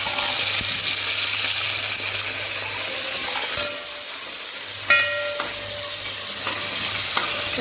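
Curry leaves sizzling in hot tempering oil for a chicken curry, a loud continuous hiss and crackle with stirring scrapes and a brief clatter midway, close and without talk.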